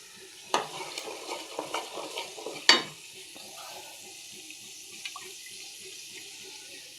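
Water from rinsing a mixer jar is poured into hot water while desi chicken masala cooks: a few sharp splashes and clinks, then a soft, steady sizzle and bubbling.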